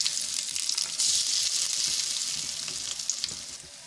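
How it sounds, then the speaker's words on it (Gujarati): Handvo batter spreading into a hot oiled pan with curry leaves, giving a steady, loud, close frying sizzle throughout with no talking. "મીઠા લીમડાના પાન ઉમેરીશું. હવે એમાં આપણે ખીરું એડ કરીશું. આપણે સરસ રીતે ફેલાવી દઈશું."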